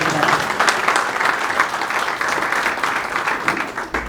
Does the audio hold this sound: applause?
yes